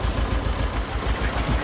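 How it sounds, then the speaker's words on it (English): Passing train in Farming Simulator 22, a steady broadband rumble with low engine drone and faint rail clatter, loud and continuous throughout the short stretch with no talk. "Ooh, train went by."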